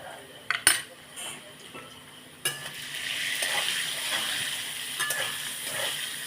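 Broiler chicken frying with salt and turmeric in a pan, a soft steady sizzle building after a few sharp metallic clinks of a utensil against the pan, close by with no talking.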